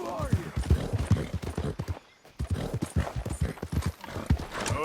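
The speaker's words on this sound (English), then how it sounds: "Careful with that horse, Arthur." In the video game Red Dead Redemption 2, horse hooves clip-clop in a close, fast, uneven rhythm, with a brief pause midway, under faint background speech.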